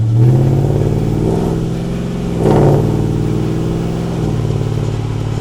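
1970 Ford F250 truck engine running while driving, a loud, steady low rumble with uneven swells of revving and faint clatter, heard close throughout.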